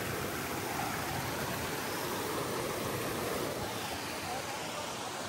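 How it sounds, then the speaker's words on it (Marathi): A small waterfall on the Garbett Plateau trek at Matheran pours in a steady, dense rush of water that stays even and loud for the whole stretch, with no break. "इथं असं धबधबा वगैरे छोटासा धबधबा आहे."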